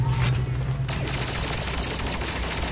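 Dense, continuous gunfire in a first-person shooter video game, with sustained overlapping shots and a busy battle din running steadily for the whole stretch, fairly loud and without talk.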